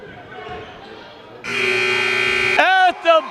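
Loud electronic game buzzer blaring steadily at the end of a period in a high school boys' basketball game in a gym, followed by crowd roar and whistles.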